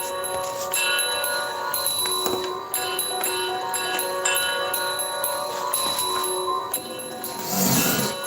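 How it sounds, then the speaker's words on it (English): Bells are played continuously in a busy, ringing pattern of bright repeated strikes with sustained overtones, steady and fairly loud with no pauses, sounding slightly distant and reverberant. "Someone is jamming out on those bells"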